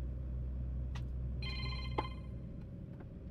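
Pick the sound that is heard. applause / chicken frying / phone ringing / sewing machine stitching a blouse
phone ringing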